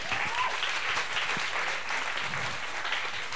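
Steady audience applause at a panel session on plastic pollution, dense and continuous clapping at an even level from start to finish.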